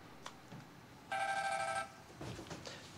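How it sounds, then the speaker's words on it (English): A cell phone rings once in a single steady burst of electronic tones over faint room noise, loud and close, then low background sounds follow. "my mom's just gonna call on my cell phone and we'll put her on speaker"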